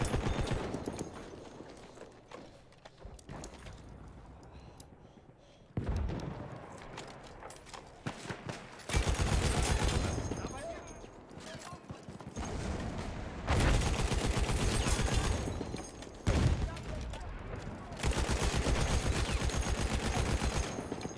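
Battlefield 1 gunfire, a player shooting through a wall in the World War I shooter: loud bursts and rapid volleys alternate with quieter stretches, the shots close and forceful across the whole passage.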